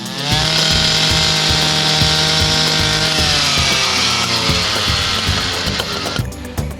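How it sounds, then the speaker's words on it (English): A large power saw cuts steel rebar on a hillside home construction site with a loud, steady, grinding whine for about six seconds before abruptly winding down. "You can see the size of the saw that we use to cut the rebar."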